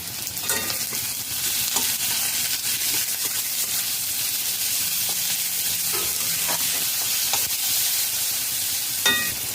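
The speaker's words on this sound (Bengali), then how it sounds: "পেঁয়াজ দিয়ে দু মিনিট নাড়াচাড়া করে নিয়েছি" Chopped onion with salt frying in a pan, a steady loud sizzle with scattered scraping clicks of a spatula stirring, no voices.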